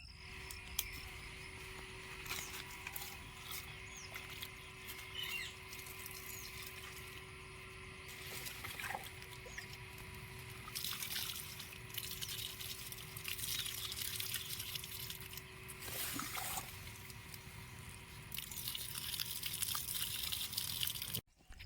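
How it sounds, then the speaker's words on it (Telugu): Water is poured on newly planted trees, including a large mango tree, on a dairy farm, making a faint, steady rushing hiss with some trickling and dripping. Insects chirp softly in the background. "అందుకోసమనే ఫస్ట్ నీళ్ళు పోయాలి."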